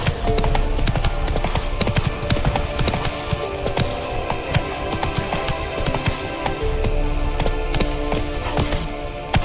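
Roach, the horse in The Witcher 3, trots with steady clip-clopping hooves, loud and close, over a busy game soundscape with faint jingling tack throughout.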